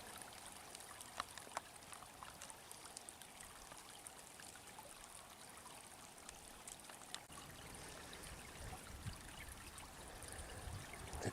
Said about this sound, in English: The creek is going underneath.